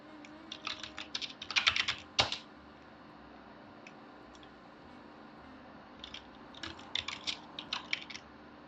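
Someone types on a computer keyboard while porting games to Windows, quick clusters of crisp keystrokes in short bursts with a single louder tap and a pause between flurries, close and alone over faint room hum.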